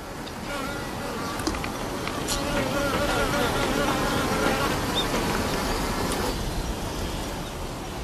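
Honeybees near their colony give off a steady, dense buzzing that swells slightly in the middle and eases toward the end, with faint background noise beneath.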